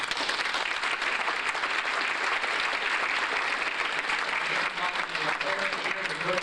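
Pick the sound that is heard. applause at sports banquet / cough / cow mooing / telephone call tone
applause at sports banquet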